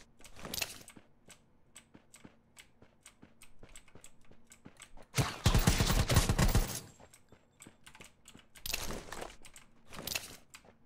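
Gunfire in Rules of Survival on a snowy map: rapid bursts of shots in short clusters, with one long dense volley in the middle and scattered single cracks before and after.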